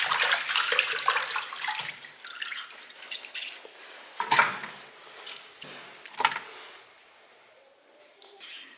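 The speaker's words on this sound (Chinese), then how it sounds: "把鸡翅给它洗干净。" Chicken wings are washed under a running tap, making irregular splashes and drips of water with several sharper splashing bursts in between.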